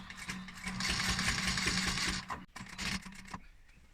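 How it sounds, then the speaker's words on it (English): A sewing machine top-stitches a sofa cushion in a fast, close mechanical chatter of needle strokes. The run breaks off briefly midway, then resumes in short bursts before stopping. "Now I'm top stitching."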